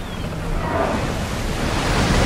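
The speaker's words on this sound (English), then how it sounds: "It's breathtaking when the whales breach through the ship." Whales breach through a ship in a video game, giving a loud, steady rush of churning water and surf-like noise that holds for the whole stretch, with no talking.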